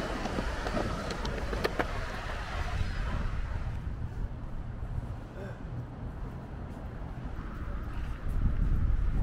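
Gusty wind on the Liverpool waterfront, with rough waves, buffets the microphone with a broad, low roar that rises and falls throughout, loud and close, with no clear voices.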